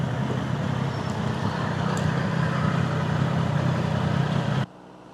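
Yamaha Fazer motorcycle engine idling with an odd vibration, a steady close rumbling drone that continues alone and then cuts off sharply near the end.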